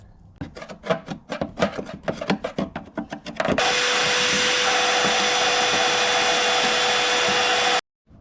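Several seconds of scraping and rubbing taps as rust is chipped with a screwdriver, then a vacuum cleaner starts and runs with a steady loud whine before cutting off abruptly.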